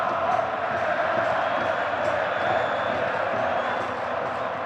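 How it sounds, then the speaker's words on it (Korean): A crowd of about 70,000 Iranian football fans cheers at Azadi Stadium, 1,200 m above sea level, as a match against South Korea begins: a dense, continuous roar of voices that holds steady and fills the whole space, with no pauses. "7만여 이란 관중의 일방적인 응원 속에 경기는 시작됐다"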